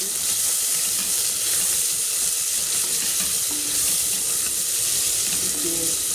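Food sizzles steadily in a pan, with vegetables going in after frying, a continuous close hiss with light stirring scrapes throughout and no talking.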